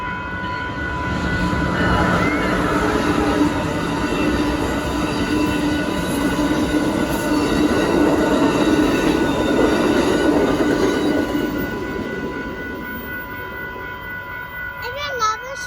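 An Amtrak passenger train rolls through a railroad crossing, a loud steady rumble of wheels and cars with squealing metal tones and a sustained crossing bell ring, fading slightly near the end.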